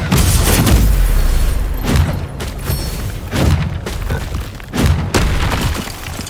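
Confringo blasting spells go off in Hogwarts Legacy as a quick string of loud booming explosions and thuds, several sharp blasts spaced about a second apart amid combat noise.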